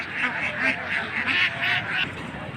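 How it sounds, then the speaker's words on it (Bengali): Many ducks quacking together at a Narsingdi poultry and pigeon market in repeated noisy bursts, a close, busy flock chattering continuously over faint background murmur. "প্রিয় দর্শক, হাঁসগুলো মাত্র আসছে, এই দেখেন মাঠে ছাড়ছে"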